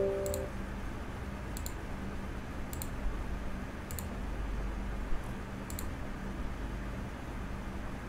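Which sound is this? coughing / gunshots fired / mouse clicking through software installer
mouse clicking through software installer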